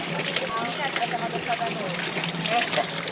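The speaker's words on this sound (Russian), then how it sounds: "Набираем воду." Spring water trickling and splashing steadily as it is collected into a container during a mountain hike, with people talking over the running water.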